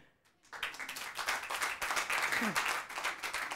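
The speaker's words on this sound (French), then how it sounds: "Il faut applaudir pour eux." A comedy-club audience at a Castel Live stand-up show bursts into applause after a brief quiet start, the clapping dense and sustained, with a faint voice slipping through partway along.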